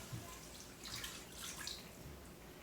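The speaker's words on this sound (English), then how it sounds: "And then you're going to pour in 1 cup of water" One cup of water is poured into an Instant Pot, a faint, continuous splashing trickle over a hiss of background noise.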